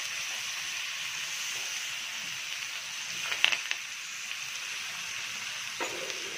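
Bangda mackerel fried in a pan with just chilli powder and salt, sizzling softly and continuously with a few sharper crackles and pops, quiet and without talk.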